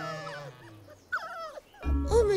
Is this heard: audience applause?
no